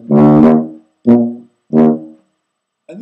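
Tuba played in a relaxed Dixieland style, three loud, rich low brass notes with clear gaps between them, the first longer and the next two shorter, then a fourth note starting at the end.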